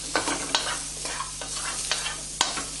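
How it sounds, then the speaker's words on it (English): Tofu and chopped scallions stir-frying in a hot pan give a steady sizzle, with a few sharp scrapes and taps of a utensil moving the food around, close and clear with no talking. "Next I'm just going to throw in the tofu and the chopped up scallions"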